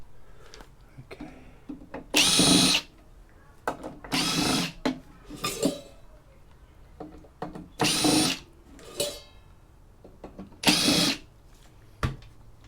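A power screwdriver drives out Torx screws on a variable speed drive being scrapped, with about seven loud short whirring bursts separated by pauses, along with faint handling clatter.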